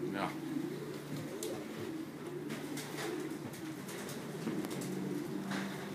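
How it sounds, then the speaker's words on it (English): Pigeons in a racing loft at feeding time coo steadily in a low, throaty chorus throughout, with occasional wing flutters and a busy background murmur. "So this is supper time at Carnival City. Not the guys in the casino, the pigeons in the loft."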